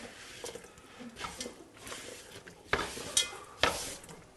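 Potatoes are stirred into a beef-broth stew in a pot, giving soft scraping and a few sharp utensil clanks against the pot over a low, quiet background.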